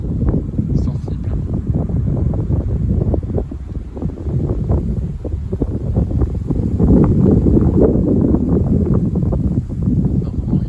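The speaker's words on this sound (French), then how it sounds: "Donc là le vent il est sensible." Steady, strong south wind roars and buffets the microphone throughout, a thick low rumble with gusts swelling louder near the end.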